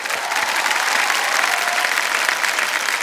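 Dense, continuous applause from a studio audience at an Indian TV quiz show, loud and close, sustained evenly for a few seconds without pause.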